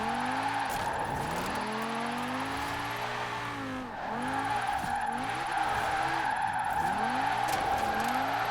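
Lamborghini Huracan with drift suspension, still all-wheel drive, sliding sideways in Forza Horizon 4: a continuous tire squeal over a loud revving engine, rising and falling in pitch with gear shifts, close and unbroken.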